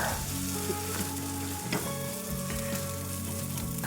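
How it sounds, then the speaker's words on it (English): Onions sautéing in a pot over a campsite stove, a steady close sizzle and crackle of frying with a few scrapes of stirring. "sauteing some onions"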